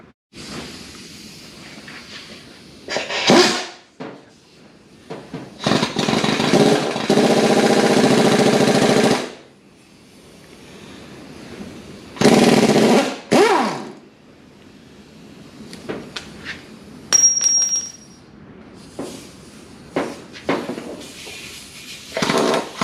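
Cylinder head work on a small block Chevy 350 engine produces loud, irregular bursts of harsh mechanical whirring and rattling, broken by quieter gaps with faint clinks and hiss.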